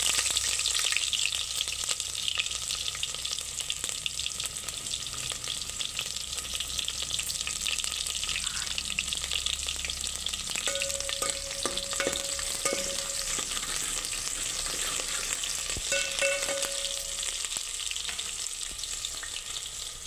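Onion fries in a pan with a continuous dense sizzle and spatter, close and steady, with brief metallic scraping and clinks partway through and no voices.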